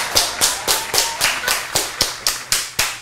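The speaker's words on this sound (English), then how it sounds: "Let me get a round of applause." A round of applause at an interview introduction, heard as about eleven sharp, evenly spaced claps over three seconds, close and fairly loud, with no talking.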